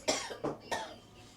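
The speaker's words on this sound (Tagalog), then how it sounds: "Inuubo si sister." A person coughs three times in quick succession, close and fairly loud, with short gaps between the bursts and no talking.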